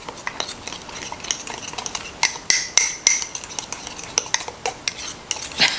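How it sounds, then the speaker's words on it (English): A utensil stirs keto mug cake mix inside a mug, a rapid run of close, sharp clinks and scrapes against the ceramic in an uneven rhythm. "Just mix it up until it's all blended together."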